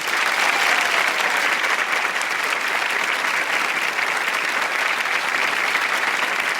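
A studio audience claps steadily and densely throughout at a celebration after a marriage proposal, with no clear voices rising above the applause.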